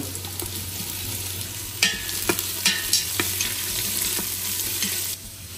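Onions fry in a pan for milk chicken biryani, a dense continuous sizzle up close, with several sharp stirring clacks in the middle before the hiss drops slightly near the end.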